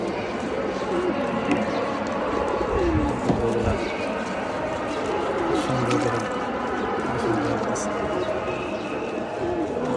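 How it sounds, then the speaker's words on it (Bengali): Pigeons coo in low, repeated murmurs while being washed with soap, their calls set against steady background noise and a person talking throughout. "সাবান দিয়ে কবুতরগুলো ধোয়াই দিতেছি"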